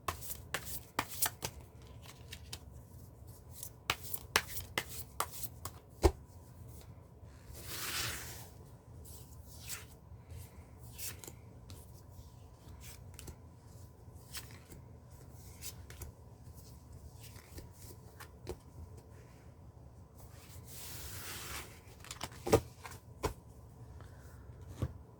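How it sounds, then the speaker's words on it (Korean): Tarot cards being shuffled by hand at close range, with repeated riffles and soft rubbing and sliding of the deck, brief louder bursts between quieter stretches and no talking. "셔플은 끝났습니다"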